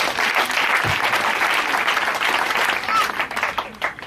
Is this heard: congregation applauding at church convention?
yes